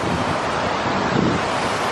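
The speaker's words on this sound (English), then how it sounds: "See that waterfall right there?" Steady rushing water from a waterfall at Wild Waves water park, a broad continuous roar mixed with wind buffeting the microphone, with no voices.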